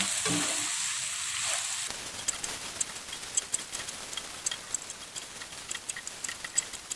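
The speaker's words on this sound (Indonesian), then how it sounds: "Kita aduk rata." Noodles and sweet soy sauce are stirred in a hot frying pan, opening with a loud hiss that drops away to a quieter crackling sizzle dotted with light ticks and scrapes from the spoon.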